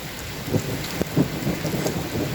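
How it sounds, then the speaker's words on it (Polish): A heavy outdoor thunderstorm: dense rain hisses steadily and low thunder rumbles underneath, with a few louder thuds, all close and continuous. "I boję się tych piorunów"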